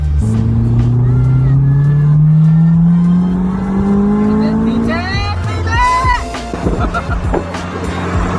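A Honda S2000 engine revs hard into VTEC, its pitch climbing steadily to a high shriek before easing off, then a voice speaks over the idling engine.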